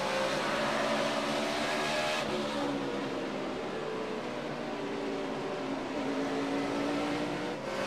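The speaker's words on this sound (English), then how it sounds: "They're all pretty much nose to tail as Hendrick Chevy teammates Dale Jr. and Jeff Gordon go side by side." NASCAR stock cars, including Hendrick Chevrolets, race nose to tail at the 2012 Food City 500, a continuous loud engine roar with shifting pitch as the pack circles the track.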